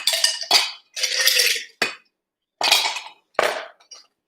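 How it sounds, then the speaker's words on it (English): Rusty Nail cocktail being stirred with ice in a glass, heard as several distinct bursts of ice clinking and rattling against the glass with short silent gaps between them. The sound is close and crisp, and no one speaks. "I'm going to toss in some ice and give this a nice stir for about 10 to 15 seconds"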